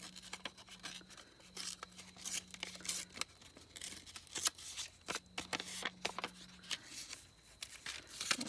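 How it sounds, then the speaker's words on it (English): Paper edges being ripped by hand for a handmade journal: a run of short, crisp tearing bursts in an uneven rhythm, close and fairly quiet, with no talking. "Just going to rip the edges of it a bit because I like to do that."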